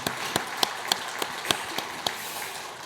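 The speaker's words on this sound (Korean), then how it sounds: "항상 같은 자리인데 박수로 축복하겠습니다." Church congregation at a Sunday service applauding a newly registered member, a steady wash of clapping from many hands with a few louder distinct claps standing out, moderately distant.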